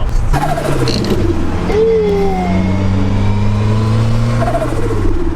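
Ford Fiesta van fitted with an RS accessory exhaust system, its engine droning loudly then rising and falling in pitch as it revs and shifts, heard from close inside the car with voices faint beneath.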